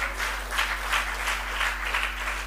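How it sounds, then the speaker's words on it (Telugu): A congregation at a Telugu fasting prayer meeting claps along in a steady, rhythmic beat, even and sustained, with a low hum running underneath. "చప్పట్లు కొట్టి దేవునిస్తుంది."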